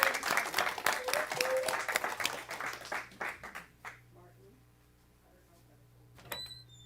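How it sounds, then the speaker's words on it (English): Audience at a Sunday spiritual service clapping for a few seconds before the applause quickly dies away into quiet room noise, with brief talk near the end. "Let's give Mary a really big round of applause."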